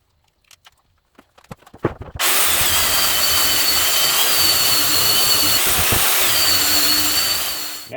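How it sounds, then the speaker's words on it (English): A power sander runs steadily on the sides and ends of a wooden toolbox, a loud continuous whirring grind that starts abruptly after a few light handling knocks and holds for the rest of the stretch. "Now I'm going to take a sander and smooth down the sides and the ends."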